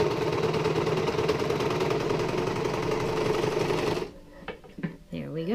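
A hand-cranked sewing machine stitches a jeans hem with steady, dense mechanical clatter for about four seconds, then drops to slower, quieter cranking bursts with light handling noise.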